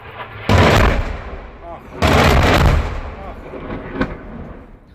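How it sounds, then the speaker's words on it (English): Airstrike explosions in Druzhkivka, Donetsk: two heavy, booming blasts about a second and a half apart, each roaring on before fading, followed by a smaller thud, loud and close. "Airstrikes on Druzhkivka in Donetsk."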